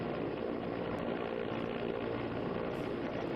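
An Air Force helicopter hovers during a rope rescue, its rotor and engine giving a loud, steady, close roar that runs unbroken through the whole stretch with no talking.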